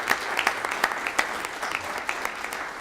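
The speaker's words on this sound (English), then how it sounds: "So give yourselves a round of applause." A conference audience in Banff, Alberta applauds at the close of a presenter panel: steady, dense clapping from many hands, fairly close, with scattered sharper individual claps standing out across the whole stretch.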